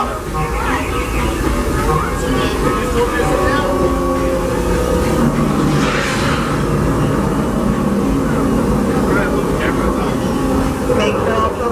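Disneyland Railroad train running with a steady low rumble and rattle throughout, while a voice announces over a loudspeaker on top of the ride noise.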